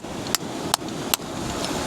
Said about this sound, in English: I actually think this could be a good one to use the hammer and chisel.